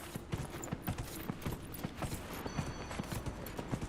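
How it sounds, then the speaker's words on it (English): Horse hooves gallop in rapid, steady clip-clop beats in Dragon Age: Inquisition, moderately loud and continuous with no talk over them. "Run, horsey, run!"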